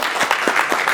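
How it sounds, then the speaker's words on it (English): Audience applause at an evening presentation, a brief dense burst of many hands clapping at steady loudness with no talk over it. "Can we give her another round of applause, please?"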